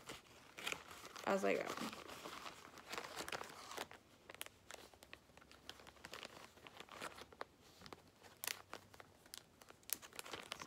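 Material for a craft project is cut slowly, giving soft crinkling, crunching snips that repeat unevenly throughout, faint and close, while a voice speaks briefly.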